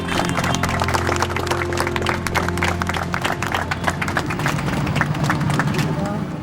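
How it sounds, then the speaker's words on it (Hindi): Audience clapping at a memorial ceremony for a soldier's death anniversary, a loud, continuous patter of many hands over a steady hum, with voices faintly underneath. "अनुरोध है ताली बजाकर इनका"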